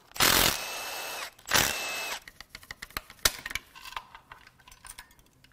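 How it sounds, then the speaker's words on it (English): A power tool unbolts parts from a Jaguar 3.0 supercharged engine in two loud, sustained whirring bursts, followed by a scatter of sharp metallic clicks and clatter as bolts and pieces come loose nearby. "we're going to just unbolt some stuff"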